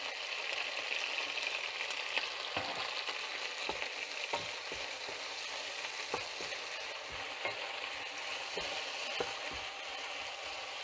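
Onions fry in a pan for Spanish paella, a steady low sizzle under repeated soft knocks and scrapes from stirring, heard close up with no voices.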